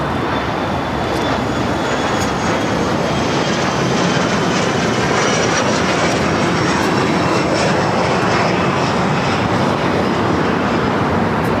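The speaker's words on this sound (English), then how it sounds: "This is Air France Flight 24 coming in from Paris on the" An Air France Boeing 777-300ER jet arriving at Los Angeles airport gives a loud, continuous engine roar with a thin whine on top, steady throughout and close by.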